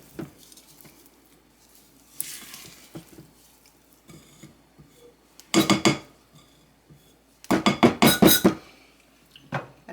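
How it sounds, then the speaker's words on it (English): Spatula scraping and tapping around a mixing bowl of sugar cookie dough, soft scrapes and clinks giving way to two louder bursts of rapid clattering knocks against the bowl. "the next thing I'm going to do is just scrape the bowl down"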